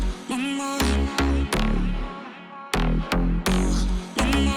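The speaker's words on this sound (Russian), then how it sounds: "просто в самом плагине Nexus я включил реверб." A synth drop with reverb added in the Nexus plugin plays rhythmic chord stabs over heavy bass, each hit trailing into a washy tail that fills the gaps, loud and without talk.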